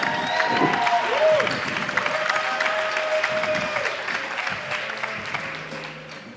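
Audience applause with scattered cheers fills a large hall before a city team from Lithuania is announced, a steady dense clapping wash with voices mixed in that eases slightly toward the end.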